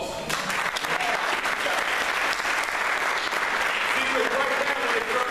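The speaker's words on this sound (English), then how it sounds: "That's another round of applause." A crowd at a scholarship gala for a counseling services organization breaks into sustained, dense applause, loud and even throughout.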